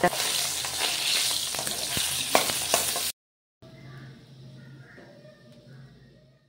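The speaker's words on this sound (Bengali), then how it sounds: "তার জন্য আজকে মাছটা আমি হালকা করে ভাজলাম" Fresh fish frying lightly in hot oil, a loud continuous sizzle with scraping stirs, then a brief cut to silence before a quieter, softer sizzle resumes.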